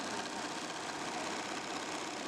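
A sewing machine stitches quilt scraps in a steady, continuous motor whir that does not change, with no talking.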